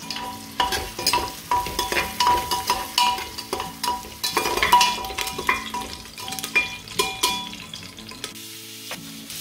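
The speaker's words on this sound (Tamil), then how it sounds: "ஒரு பெரிய வெங்காயம் கட் பண்ணி வச்சுருக்கேன், அதை நான் இப்போ சேர்க்க போகிறேன்" A chopped large onion sautéed in a pan for Chettinad mushroom gravy, with a loud rhythmic series of spatula scrapes and clanks against the pan over a low sizzle.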